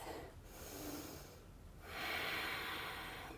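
Deep breathing while holding a yoga runner's lunge, two rounds of slow breaths close to the microphone, each a soft airy rush with a louder, longer exhale near the end, no talking.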